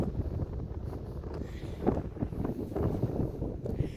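Strong winter wind gusting outdoors, a steady loud roar and buffeting against the microphone with no pauses.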